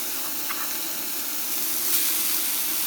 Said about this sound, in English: Next, I'm going to add my onions.